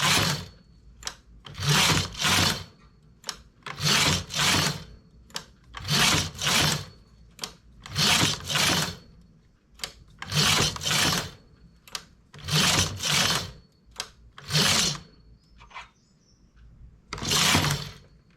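A knitting machine working a flower button in rhythmic passes: the carriage rasps loudly back and forth in repeated paired sweeps, separated by short pauses and small clicks, with no talking.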